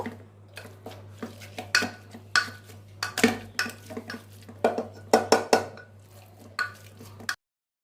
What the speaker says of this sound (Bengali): আমার সবজিগুলো সেদ্ধ হয়ে গেছে, এবার এগুলোকে ভালো করে আমি ম্যাশ করে নেব